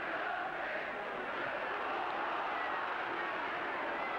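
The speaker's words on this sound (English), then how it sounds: "That decision welcomed by the crowd." Football crowd at a 1969 Liverpool match roaring in reaction to a referee's decision, a broad distant rumble of many voices that stays steady throughout.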